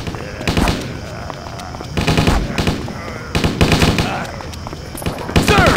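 Rapid automatic gunfire from the remastered Stubbs the Zombie video game, loud bursts of shots that repeat several times with game voices shouting over and between them.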